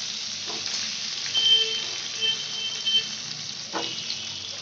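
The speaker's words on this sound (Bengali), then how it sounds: "আলুগুলোকে আমি ভালো করে কড়া করে ভেজে নেবো।" Potatoes frying crisp in a pan of hot oil, giving a steady close sizzle with a few brief louder bursts of crackle and stirring, no voices.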